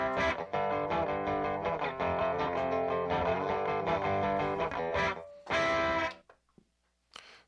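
Recorded intro music on a Telecaster electric guitar with added distortion and a doubled part, loud driven chords and notes for about six seconds, then breaking off into a couple of short stray bursts.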